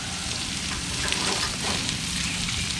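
Bacon-wrapped jalapeño poppers sizzle on a grill, a steady close crackle and hiss of frying fat that holds evenly loud throughout, with no voices.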